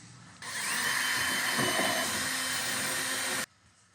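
A power drill or driver sends screws into a cover on an RV roof fan. A steady loud whir begins abruptly, holds for about three seconds and then cuts off sharply, close up with no talking.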